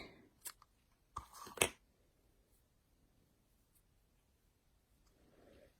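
Scissors snip through paper for a handmade card, a few crisp cuts clustered near the start, then quiet handling of the paper and faint rustling toward the end.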